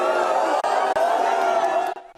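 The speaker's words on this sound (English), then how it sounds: "many in the Nice crowd booing the Prime Minister" A crowd in Nice booing the Prime Minister, a loud sustained roar of many voices that holds for about two seconds before cutting off.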